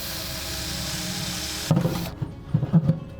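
A drill bores drainage holes into a plastic 5-gallon bucket, a steady whir giving way to short scraping, grinding bursts as the bit breaks through, close and moderately loud.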